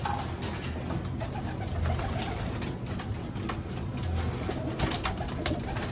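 Pigeons cooing and stirring inside a loft before release, a steady murmur of soft coos and wing rustles filling the space at close range, with no talking.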